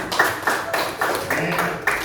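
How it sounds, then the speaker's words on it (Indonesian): Fifth-grade students clap together in a primary school classroom, a group of rhythmic claps in steady bursts, close and moderately loud, with voices mixed in. "Ya, tepuk tangan semuanya."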